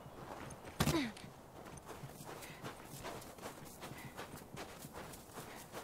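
Horse hooves clop in a steady galloping rhythm, faint and continuous, with a sharp whoosh near the start, in the video game The Last of Us Remastered.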